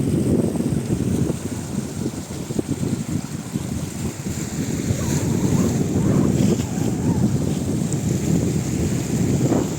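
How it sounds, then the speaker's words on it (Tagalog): Sea waves break against rocks along a rocky shore at sunset, giving a steady low rushing surge with wind buffeting the microphone throughout. "Gandang hampas ng alon, sabay siwang ng bato."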